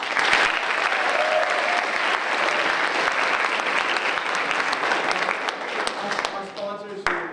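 A theatre audience applauds steadily for about seven seconds, dense clapping filling the room at a constant level, with a few voices and faint musical tones emerging near the end as it tapers.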